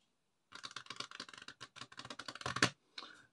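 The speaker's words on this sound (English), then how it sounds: "we will take this last packet and we will shuffle that face up into this packet" A packet of playing cards is riffle-shuffled up close during a card trick, a rapid run of crisp clicking flicks that builds and ends with a snap, then one brief settling riffle.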